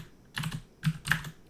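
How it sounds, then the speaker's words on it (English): Keys clatter on a very old computer keyboard in three quick bursts of clicky typing, close and fairly quiet, with no talking. "This is a very old keyboard."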